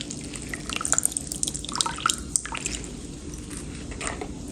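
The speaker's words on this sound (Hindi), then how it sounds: "इसको अच्छी तरह निचोड़ देंगे," Water drips and squishes softly as dahi bhalla lentil dumplings are squeezed out by hand, a few faint wet splatters spread over a few seconds.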